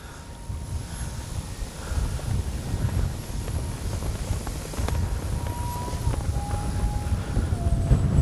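A small RC jet plane's X-Fly 40mm J-65 engine whines over gusty wind buffeting, its tone shifting as it builds and lifts off, growing gradually louder.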